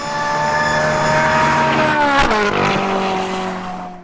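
A 600 hp 4.5-litre V8 Ferrari and a 700 hp Seat 1.9 TDI drag race at full throttle, wheels fighting for grip; loud engine harmonics build and sweep sharply downward as a car roars close past.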